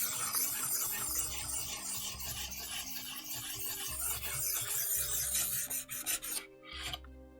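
A hunting knife is sharpened on a 2000 grit whetstone, giving steady, close rasping strokes that run almost without pause before a brief quiet gap and a final stroke, with no talking.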